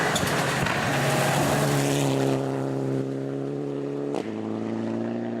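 A Mitsubishi Lancer Evo 7, the oldest car in Category 1, races through a stage of Rally Otago. Its engine drones loud and steady, dropping pitch at a sharp gear change near the end.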